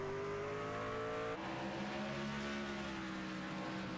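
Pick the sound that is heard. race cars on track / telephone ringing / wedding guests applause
race cars on track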